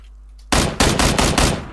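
Gunfire in PUBG breaks a near silence: a loud burst of about six rapid shots in close succession, sharp and forceful, with no voices.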